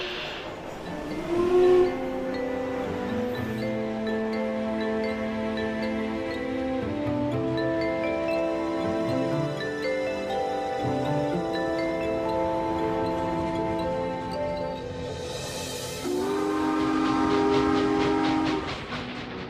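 A train rumbles and rolls at a train station, with long blasts of a horn or whistle sounding over it, the horn growing louder near the end.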